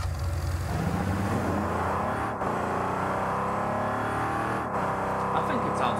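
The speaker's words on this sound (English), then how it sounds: "car engine sound, the Maestro" Rocket League's Maestro car engine sound in the video game, a continuous loud revving drone with rising and falling pitch sweeps and brief dips, alongside game audio.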